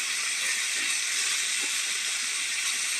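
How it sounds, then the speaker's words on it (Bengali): Salted amude fish sizzling as it fries in hot oil, a steady close hiss with no breaks and nobody speaking. "মাছগুলো কেটে নুন মাখিয়ে রেখেছিলাম, এই এখন ভেজে নিচ্ছি"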